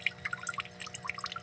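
Water trickles and drips slowly into a crayfish breeding tank during a gentle refill, a soft, steady, close pouring with scattered bright droplet splashes and no talking.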